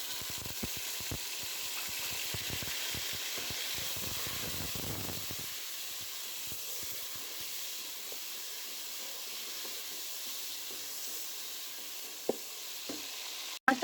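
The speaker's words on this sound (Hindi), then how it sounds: "अब प्याज मेरे पास अच्छे से ब्राउन हो चुके हैं। मैं इसमें ऐड करूँगी टमाटर।" Chopped tomatoes hitting well-browned onions in a hot pan, a steady broad sizzle with stirring scrapes early on that settles into a softer continuous hiss, with a couple of sharp clacks near the end.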